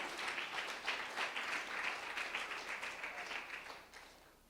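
A church congregation claps together in dense, rhythmic waves that hold steady, then thin out and fade near the end, heard from within the hall.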